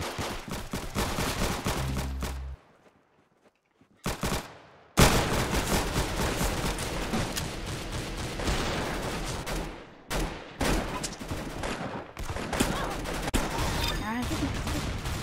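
Rapid gunfire from the Roblox shooter game Arsenal, with dense bursts of shots and fusillades filling most of the stretch, broken by a brief quiet gap, loud and close.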